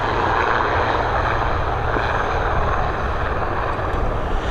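An airplane departing Dublin Airport for Glasgow gives a loud, continuous engine roar that stays steady and close throughout, with no pauses.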